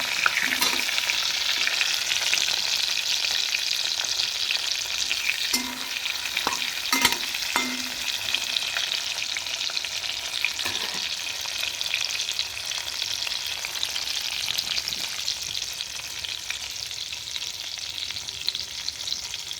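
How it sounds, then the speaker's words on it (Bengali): Pieces of pointed gourd sizzle and crackle steadily in hot oil, with a few scrapes of a spatula stirring them now and then. "তেল আমার গরম হয়ে গেছে, ওর মধ্যে আমি পটলগুলো ছেড়ে দেবো।"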